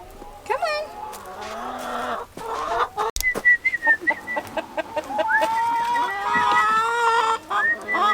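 Chickens cluck and squawk close by, with rising, whistle-like calls and agitated bursts throughout.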